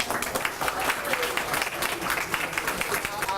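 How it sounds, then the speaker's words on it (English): A roomful of attendees at the Houston Black Restaurant Week 2017 inaugural panel applauds themselves, a steady, loud wash of many hands clapping throughout, with a voice or two mixed in beneath. "Everybody give yourselves a round of applause."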